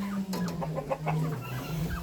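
Young chicks clucking and peeping while being fed boiled potatoes, several soft close calls in quick irregular succession over a low steady hum.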